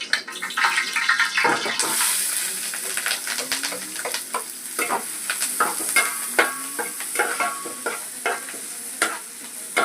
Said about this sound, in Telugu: దీంట్లో కొంచెం ఆయిల్ వేసాను, ఎందుకంటే ఈ ఉల్లిపాయలు పచ్చిమిరకాయలు వేగడానికి